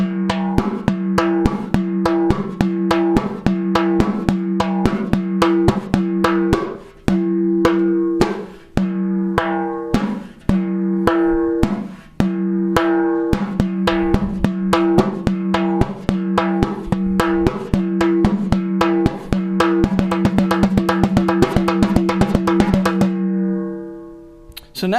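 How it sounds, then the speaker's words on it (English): Frame drum played in a steady repeating pattern of slaps, open tones and high-pitched strokes, close and loud and alone, with sharp transient hits over a ringing low body tone for about 25 seconds. "The second method is right with the slap, right with the open tone, and then left high pitched."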